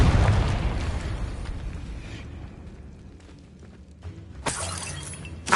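A Confringo fire spell from Hogwarts Legacy bursts with a loud shattering blast, its debris rumble fading over a few seconds before a second sharp crack and burst near the end.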